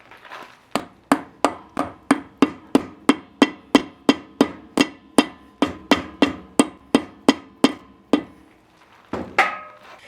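Hammer repeatedly striking a grease cap onto a trailer wheel hub, about twenty sharp metallic blows in a steady quick rhythm, close and loud, with a short pause before a final tap.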